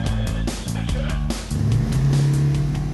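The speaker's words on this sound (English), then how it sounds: "Small car-mounted cameras then film Sam Callis driving" Car driven for filming of the ITV police drama The Bill, filmed by small car-mounted cameras, with a steady engine drone and a low hum that rises around the middle, heard close and continuous.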